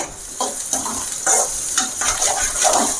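Onions being sautéed in a pan for an egg fry with vallarai greens, with a steady sizzle and repeated scraping stir strokes at close range and no voices.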